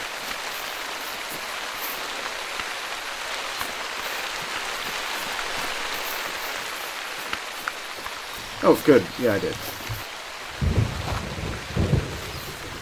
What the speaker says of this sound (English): For those of you that do not like thunder and lightning, may want to turn off the audio.